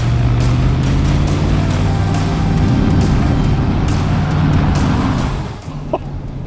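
An Audi RS 6 Avant in RS mode drives a winding road, its engine a loud, steady, deep roar that holds for several seconds before easing slightly near the end.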